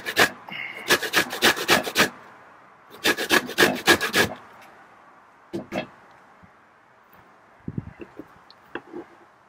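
A lemon is scraped over a zester for homemade peri peri sauce, giving two quick runs of rhythmic rasping strokes, then scattered softer scrapes and taps, close by.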